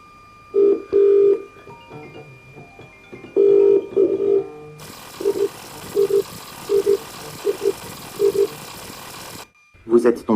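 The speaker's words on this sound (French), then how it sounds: "Dis Siri, appelle Alpha Sleep Chris." Phone call placed by a voice assistant, with short repeated tonal beeps in a regular pattern followed by a series of ringback tones under a steady hiss, ending abruptly.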